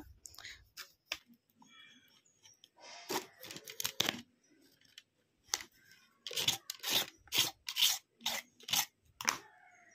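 A cutter slices into the plastic casing of a faulty laptop battery, giving sharp intermittent cracks and crunching snaps in short irregular bursts, close and clear against near silence.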